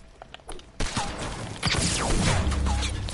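Gunfire from an opponent shooting at the player in a video game: a loud, rapid burst of shots that cuts in abruptly and keeps going with other game noise.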